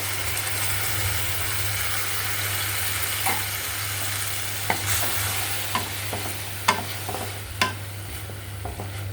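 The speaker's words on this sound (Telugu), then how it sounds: "బాణీలో కొంచెం ఆయిల్ తీసుకొని ఒక ఉల్లిపాయ పేస్ట్ పెట్టుకోవాలండి" Onion paste frying in oil in a pan for a homemade curry, a steady close sizzle with a low constant hum underneath and a few sharp scraping clinks from stirring.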